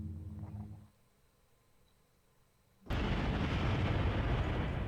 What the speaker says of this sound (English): As the sounds of explosions echo in the distance, a dull numbness takes over his broken limbs.